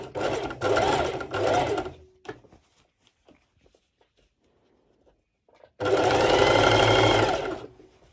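A sewing machine stitches along the neck edge of a halter top in two close, steady runs, the first broken into three short bursts, the second a longer continuous whir, with a quiet gap between.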